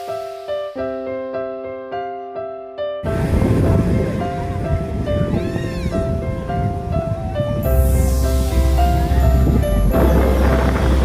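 Strong, cold wind and surf at a beach in the evening: a loud, steady roar of wind and waves builds in after a few seconds, with melodic music playing over it throughout.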